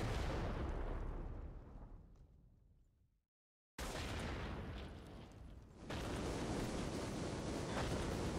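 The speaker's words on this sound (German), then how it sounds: "Pass auf, Explosion!" A huge explosion in Battlefield 1942 on the ActionBF mod, a loud broadband blast that rumbles and fades to near silence, then a second roaring burst of blast and debris noise that swells and holds loud to the end.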